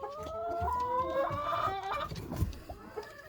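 A broody hen clucks to gather her chicks under shelter during the year's first storm, her calls close and layered with bright, rising peeps from the chicks, with no talk.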